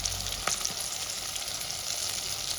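Pieces of food frying in a pan, a steady dense sizzle with a couple of brief sharper crackles, close and continuous with no voices.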